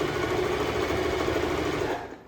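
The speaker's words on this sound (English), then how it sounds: "have our sewing machine start grabbing stuff" A sewing machine stitches a pillowcase in a fast, steady run of close mechanical clatter that winds down at the end, alone.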